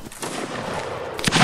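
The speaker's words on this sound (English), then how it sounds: "Oh, nice shot, Zango" Gunfire in a multiplayer linebattle video game with American rifles, a dense rumbling volley of shots that swells toward the end, heard without speech.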